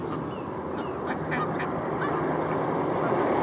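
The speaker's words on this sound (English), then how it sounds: "Great selection of ducks and geese here." Several geese honk in a loose series of short, nasal calls, moderately close, over a steady low background rumble, on a walk from Wickford to Battlesbridge.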